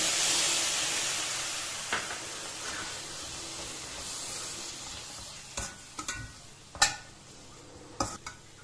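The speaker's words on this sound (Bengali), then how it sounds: "এখন দিয়ে দিলাম তেঁতুল গোলা জল।" Tamarind water poured into an orange-lemon peel pickle cooking with sesame, salt and turmeric, a soft steady sizzle followed by a few sharp clinks and scrapes of stirring against the pan, close up and without talk.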